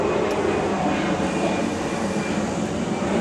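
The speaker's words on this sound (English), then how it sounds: "Gotta love planes." A low, steady aircraft drone passes overhead outdoors during work on a 2000 Dodge 1500 truck's ball joints, a broad continuous roar holding level loudness with no talk.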